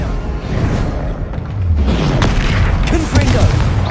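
Bombarda spell from the Hogwarts Legacy video game erupting in a loud, heavy boom with a rumbling whoosh that swells and sustains for several seconds, close and dominant, with voices underneath.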